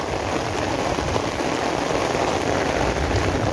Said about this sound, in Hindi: ये बहुत तकड़ी बारिश है